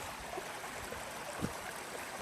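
A mountain stream fed by waterfalls in Slovakia, flowing with a soft, even rush of water and faint gurgles, quiet and steady with no voices.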